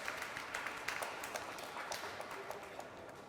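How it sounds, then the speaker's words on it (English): A faint, steady patter of audience applause fills a community commemoration honoring freedom fighters in Newark, with the young ones being clapped for continuously, distant and even, with no talk over it. "Let's give them a big round of applause."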